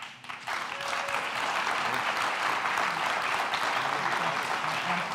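Applause from the audience at an education innovation panel, sustained broadband clapping that swells quickly after a brief quiet start and holds steady, moderately distant, with no talk over it.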